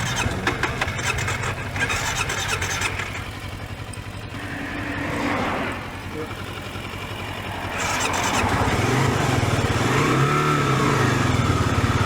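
Motorcycle engine idling and revving outdoors at a Buc-ee's stop, a steady low rumble that swells with throttle blips partway through and again near the end, moderately close.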